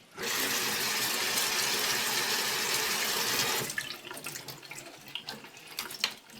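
Cold tap water runs hard over onion in a sieve, a loud steady gush that stops abruptly and gives way to drips, trickles and light clattering.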